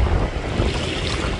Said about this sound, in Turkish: Yalnız rüzgar acayip.